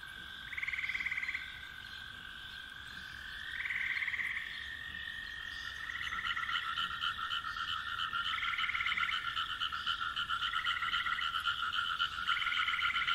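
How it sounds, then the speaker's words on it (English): Frogs croak and trill in a steady, continuous chorus, with repeated pulsing calls layered over one another, played as soothing background sound for sleep. "frog sounds can be very soothing, very therapeutic"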